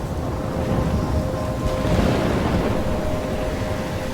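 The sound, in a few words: storm with thunder in video game Life is Strange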